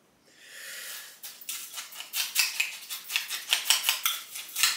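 A metal spoon clinks and scrapes against a bowl while scooping limited-edition hazelnut chocolate Coco Pops in milk, repeating in quick rhythmic strokes that grow louder after a soft start.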